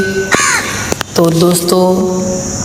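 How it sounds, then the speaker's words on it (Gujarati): A crow caws nearby in a few harsh calls, heard close and fairly loud while someone speaks briefly over it. "મારા આજુબાજુ કાગડો બોલી રહ્યો છે"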